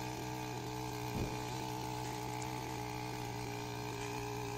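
A petrol-powered post-hole digger on a wheeled push frame bores into hard hillside soil full of roots, its small engine droning steadily and loudly throughout, with a brief clunk early on.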